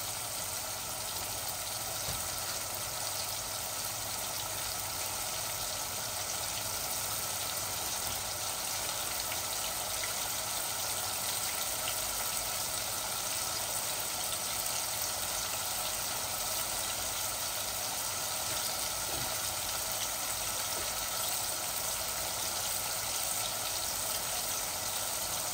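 Leeks frying in oil for a chicken bhuna, giving a steady, dense sizzle that stays loud and even throughout, with no talk over it.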